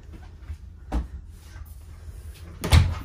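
A medicine cabinet door in a 2021 Grey Wolf 23MK travel trailer bathroom opens with a soft click and then a firmer knock near the end, both close and heard without talk.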